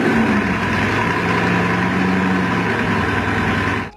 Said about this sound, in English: When you fire it up, the engine rumbles, it's loud, it generates an incredible amount of heat. When you rev it, it shakes the room.